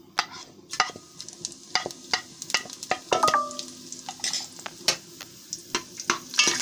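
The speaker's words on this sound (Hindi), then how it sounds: "अब जीरे को थोड़ी देर हम भून लेंगे।" Cumin seeds frying in a cup of hot cooking oil, a light crackling sizzle with scattered stirring scrapes and a brief metallic ring from the pan.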